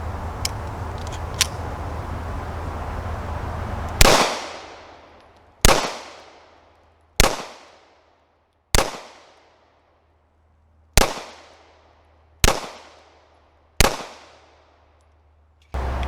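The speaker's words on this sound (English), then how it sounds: "So we're going to take a few shots for the aluminum stuff here." A Ruger SR1911 Lightweight Commander .45 pistol fires Federal aluminum-case 230 grain rounds at 7 yards, seven sharp loud shots spaced one to two seconds apart outdoors, each ringing off quickly.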